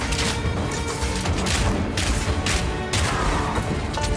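Rapid-fire shots from a Mercenary character's ability in Path of Exile 2, a dense, loud, continuous barrage of impacts and blasts with no talking.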